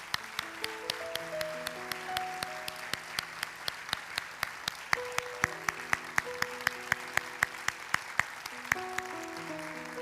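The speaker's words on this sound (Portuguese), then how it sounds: "Uma salva de palmas a todos os pais que estão aqui." A church congregation applauds the fathers present at a service, a steady, fairly close patter of many hands clapping that runs without pause, with a few sharper claps standing out and a few sustained organ or keyboard chords underneath.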